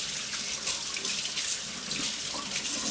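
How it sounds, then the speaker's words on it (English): A kitchen tap runs steadily as oily hands are rinsed under it, giving a close, continuous hiss and splash of water that stays even and uninterrupted throughout. "I'm just going to wash my hands because, or at least rinse them because now they're all oily."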